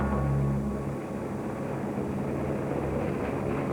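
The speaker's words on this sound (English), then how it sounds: "The helicopter's removing a giant air conditioning unit from a block of flats." A helicopter hovers while hoisting a giant air conditioning unit off a block of flats, its steady engine and rotor roar holding loud and continuous with a low throb and no speech.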